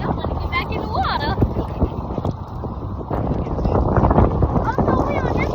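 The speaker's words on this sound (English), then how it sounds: "it's windy out here" Strong wind gusts at a beach buffet the microphone with a loud, continuous roar, while people talk over the blustery noise.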